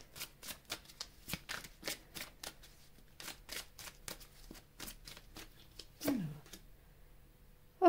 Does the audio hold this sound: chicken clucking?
no